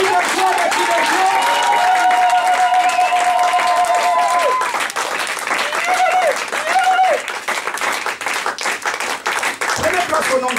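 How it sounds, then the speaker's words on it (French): A church congregation in a French-speaking service cheers and applauds for the Lord, loud sustained clapping and shouts filling the room while a voice carries over it, fading slightly toward the end. "Est-ce qu'on peut acclamer très fort pour le roi de roi?"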